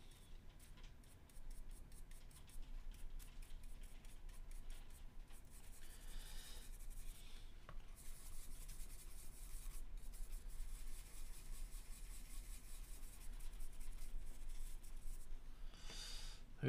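Watercolor paint being rubbed into paper with a brush, a faint, continuous dry scrubbing and rasping texture that rises and falls, close up and alone.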